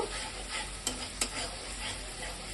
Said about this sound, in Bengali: যেটা জিরে কাঁচা লঙ্কা শুকনো লঙ্কা বেটে রেখেছিলাম সেটা একটু দিয়ে দিচ্ছি। ভালোভাবে মশলাটাকে আমরা কষিয়ে নেব।